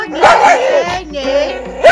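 A dog at a chicken farm in Suriname gives a few short yipping barks in quick bursts, close by, mixed with a person talking to it.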